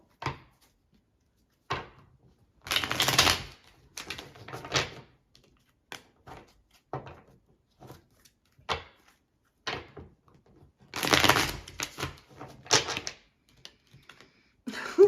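Tarot cards are shuffled in repeated brisk bursts, crisp slaps and riffles separated by short pauses, close and clear with no talking.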